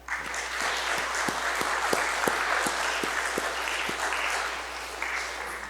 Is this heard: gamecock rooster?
no